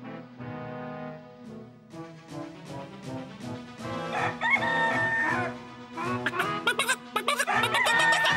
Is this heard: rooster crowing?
yes